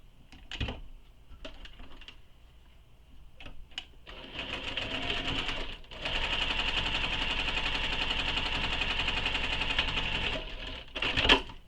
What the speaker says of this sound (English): And then sew this with the seam allowance given in the pattern.